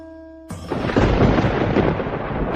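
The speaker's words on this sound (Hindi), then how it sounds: "ये बिना मौसम की गरजती हुई बारिश हमें क्या संकेत देती है?" Loud, close thunder crashes in after a moment of near-quiet and rolls on as a broad, heavy rumble during an unseasonal rainstorm in an animated story, with no talking over it.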